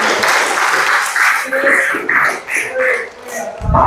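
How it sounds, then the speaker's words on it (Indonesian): Classroom applause for a student, brief clapping from a group of schoolchildren, close and fairly loud, mixed with overlapping voices. "tepuk tangan untuk Lutfi"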